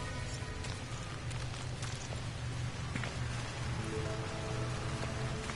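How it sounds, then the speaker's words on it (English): Rain from a storm in a video game patters steadily on surfaces, with a faint low rumble underneath and a few scattered clicks, no talking. "See, I can hear the storm is starting."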